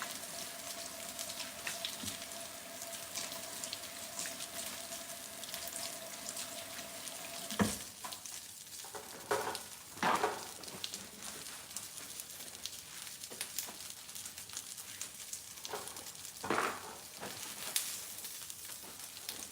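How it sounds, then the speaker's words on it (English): Onions sizzle in a hot pan with a quiet, steady hiss, broken by a few louder scraping and clattering stirs toward the middle and end of the stretch. "By the time I turn around and stir these onions over, they'll probably be ready for some seasoning."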